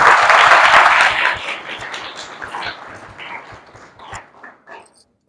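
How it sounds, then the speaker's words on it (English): An audience applauds at a school speech competition, a loud burst of clapping that thins out over a few seconds into scattered claps and fades to quiet. "So again, a big round of applause."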